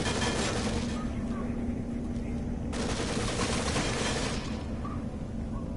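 Gunshots in a PS4 video game crackle in steady repeated volleys across the whole stretch, with dense firing and brief changes in intensity, fairly loud and continuous.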